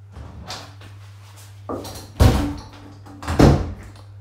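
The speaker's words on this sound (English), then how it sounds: "The door is right behind me and I keep on walking into it." A person repeatedly bumps into a door, giving dull thuds and knocks of varying strength, with two heavier impacts standing out over a low steady background hum.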